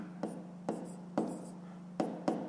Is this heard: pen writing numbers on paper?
yes